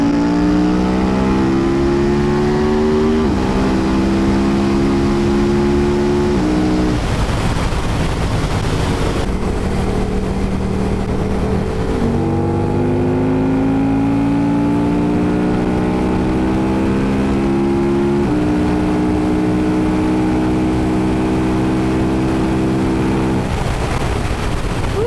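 KTM Superduke and Aprilia Tuono motorcycles pulling hard on the Autobahn in fourth gear, loud close engine roar rising in pitch through repeated climbs with brief dips at gear changes, heavy wind rush underneath.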